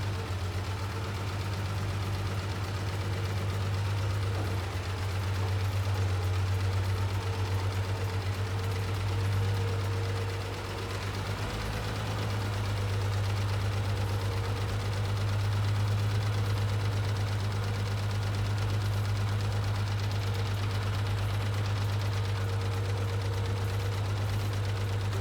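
A Farmall 706 gas tractor with M&W pistons runs steadily at idle throughout, a loud, close, continuous low engine drone with a faint knocking rhythm and no talk over it.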